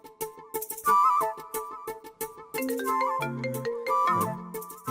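A mobile phone ringtone plays a bright, chiming electronic melody of repeated note patterns, fairly faint and alone, pausing briefly before the tune picks up again.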